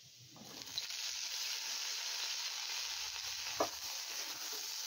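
Diced ridge gourd drops onto potatoes fried red with turmeric, setting off a steady close sizzle that starts abruptly and holds evenly, broken by one brief clatter of a spoon.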